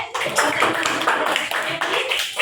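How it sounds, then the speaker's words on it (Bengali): An audience at a debate competition claps for two debaters. The applause is dense and steady, with many hands clapping at once close by throughout. "দুজনের জন্য একটা হাততালি"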